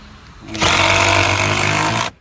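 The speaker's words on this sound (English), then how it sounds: "Make sure the socket is all the way over the head of the lag screw." A power driver with a socket drives a lag screw, a loud, steady motor whir lasting about a second and a half before cutting off abruptly, close by.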